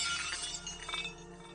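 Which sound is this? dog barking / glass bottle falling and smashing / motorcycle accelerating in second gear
glass bottle falling and smashing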